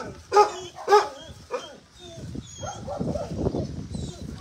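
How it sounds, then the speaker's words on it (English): Dogs bark at an animal shelter: two loud, close barks open, followed by softer yips and whimpers, with a person talking over the rest of the scene. "And here are the naughty dogs."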